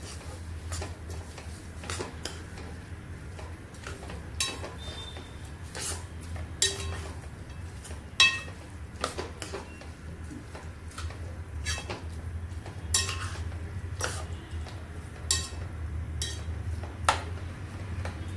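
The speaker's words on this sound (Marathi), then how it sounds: "दुधाची पावडर टाकते आणि दूध टाकते. हलवून घेऊया." A spoon stirs carrot halwa in a pan after milk powder and milk go in, giving scattered light clinks and taps against the metal over a low steady hum, with no talking.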